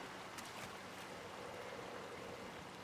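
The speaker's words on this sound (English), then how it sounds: "crouch walk through the water" Wading through river water at a slow crouch in the hunting video game Way of the Hunter, giving a steady, soft sloshing and trickling wash that runs continuously for the whole stretch, with no talk over it.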